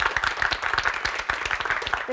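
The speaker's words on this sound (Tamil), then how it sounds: "ஒரு நல்ல கைத்தட்டு கொடுத்துக்கலாம் நமக்கு நாமே" Audience applause at the start of a Tamil quiz competition, fairly faint, rapid overlapping claps in a steady patter, with a voice faintly present underneath.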